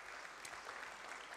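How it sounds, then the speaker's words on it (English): Applause for Callum at a Sunday morning church service, a faint, even wash of clapping from the congregation. "let's give him another round of applause"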